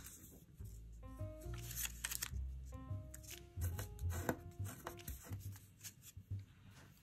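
A crisp paper dollar bill is creased and folded into origami pants, with soft rustles and crinkles, quiet and close, under faint background music.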